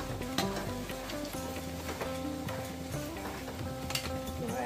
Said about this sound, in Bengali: আর এই যে আলু ভাজা হচ্ছে